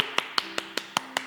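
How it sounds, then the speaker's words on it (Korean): Applause of encouragement at a church prayer session comes through as a steady run of single sharp claps, about five per second, evenly spaced and close by against a quiet background. "격려의 박수 함께 하겠습니다"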